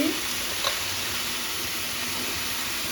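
Chopped Malabar spinach greens hit a hot pan for a vegetarian mixed-vegetable dish, giving a steady, close hissing sizzle with a brief clatter at the start and no talking.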